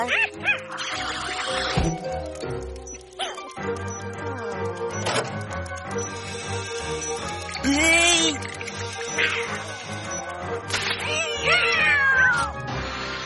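Cats meow repeatedly in a cartoon scene, several wavering cries rising and falling over background music, with talking between them.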